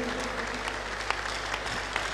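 Congregation at a Tuesday miracle church service claps steadily, a dense, even wash of many hands with a low hum underneath and occasional sharper claps.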